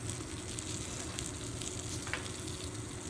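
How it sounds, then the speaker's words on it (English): Chili flakes hit a pan of peas that keeps up a steady, low crackling sizzle throughout, with faint scattered pops and no voices. "So we're going to add these chili flakes here."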